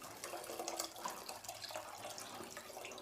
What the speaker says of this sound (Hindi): थोड़ा सा मैंने इसके अंदर ऐड कर दिया था और बाकी हम ये पानी डालेंगे इसके अंदर।